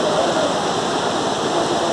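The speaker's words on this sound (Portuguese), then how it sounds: "Cachoeira vai ficar vazando de água, porque a comporta da represa tá fechada." Waterfall at São Bartolomeu park flowing with low volume because the dam gate upstream is closed, a steady close broadband rush of falling water with no talk.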